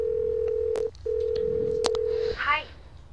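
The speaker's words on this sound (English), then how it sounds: "Let's do a bit of phoning." Touch-tone telephone dialing in a Nancy Drew video game: a long steady tone broken by a short gap, a few brief key beeps, then a faint voice starting at the end.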